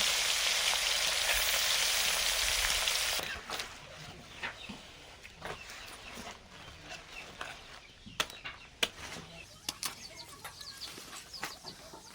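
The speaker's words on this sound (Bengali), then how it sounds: "মাছ ধুয়ে এনে উনুন ধরিয়ে মাছ ভাজছি" Fish fries on a clay stove with a loud, dense sizzle that cuts off after about three seconds, leaving quieter scattered crackles and nearby chickens clucking at intervals.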